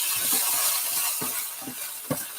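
A spoon stirs jasmine rice in a pot during a beef, black bean and cashew stir-fry, giving soft repeated scraping strokes over a faint sizzle, close and fairly quiet.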